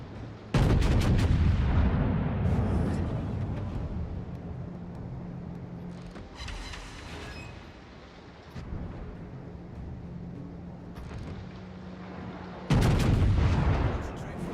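Heavy guns fire in a video game in booming bursts, with one loud volley near the start and another near the end and a rumbling wash of explosions in between, with no voices heard.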